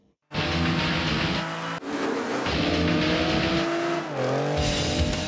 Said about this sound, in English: Project Gotham Racing 3, to give it its full title, is the most popular next-generation racing title currently on the circuit